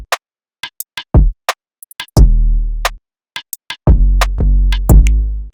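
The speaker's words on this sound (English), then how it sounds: "And lastly, we've got this short, like 808, but it has a nice sub to it that sounds like this." Short punchy 808 bass notes with a deep sub tail for a soulful R&B beat, played alone as several separate hits with crisp ticks in between, each boom ringing briefly then cutting off.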